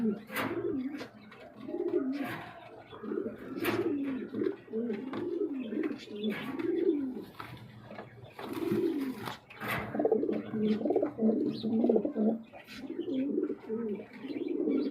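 Sirazi pigeons, a new adult pair, cooing repeatedly in soft rhythmic throaty phrases close by, with occasional chirps and faint voices in the background.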